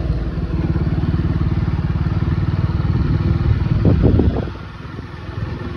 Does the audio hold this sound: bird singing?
no